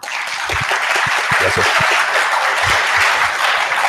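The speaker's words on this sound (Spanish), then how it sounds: "Por favor, recibámoslo con un fuerte aplauso." Loud, steady applause from an audience welcoming a speaker at a talk on personal data protection, continuous clapping throughout with someone briefly saying a word of thanks over it.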